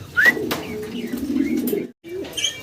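A pigeon gives soft, low, rolling coos close by, heard clearly in a quiet setting with a brief pause near the end.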